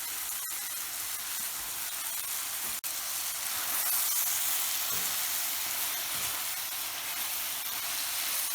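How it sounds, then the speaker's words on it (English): Butter sizzles steadily as it melts in a hot pan while apple pie filling is prepared, a continuous close frying hiss with a brief tap partway through and no talk. "Watch the butter melt as it hits the hot pan."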